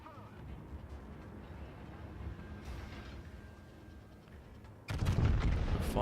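Heavy naval guns boom from warships during a World of Warships battle against a Zao cruiser, a steady rumble of combat noise with a loud, dense burst of gunfire near the end.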